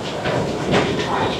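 A train at Colombo Fort station on a busy afternoon platform, giving a steady low rumble with faint hissing and rail noise that swells briefly midway, with no clear voices.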